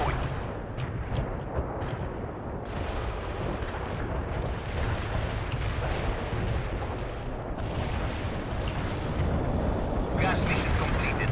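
A gas artillery barrage in the World in Conflict strategy game, a dense, continuous rumble of booming shell fire and explosions with sharper cracks, steady and loud throughout.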